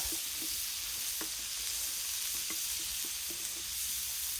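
Shrimp scampi sizzles loudly in ghee on a Blackstone griddle, a dense continuous hiss broken by light taps and scrapes as a spatula spreads the shrimp out.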